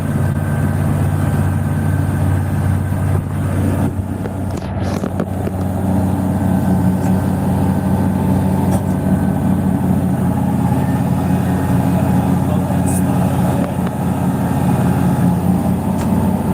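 A tractor engine runs steadily at idle from inside an air-conditioned cab, a continuous low rumble heard close and alone.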